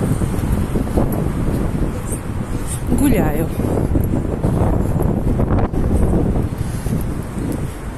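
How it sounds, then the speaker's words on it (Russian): Steady wind buffets the microphone, a loud rumbling roar throughout, while someone speaks briefly. "Ну, сейчас, правда, ветер немного."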